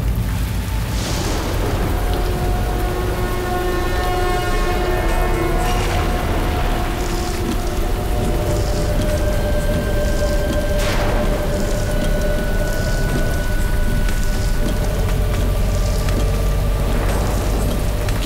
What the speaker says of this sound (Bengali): কি জোরে বৃষ্টি পড়ছে এখানে।